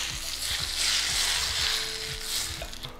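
Oil sizzling hard in a hot pot while making a Trinidadian coconut bake, a steady close crackling hiss with a few soft knocks.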